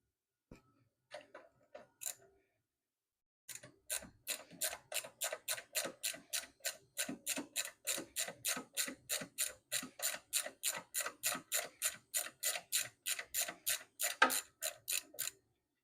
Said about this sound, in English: I'll remove the nut first